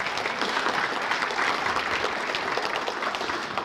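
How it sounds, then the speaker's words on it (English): Audience at an athletic hall of fame induction ceremony applauding, a steady, even wash of clapping from a full room, moderately loud, with no speech over it. "You can clap. Go ahead."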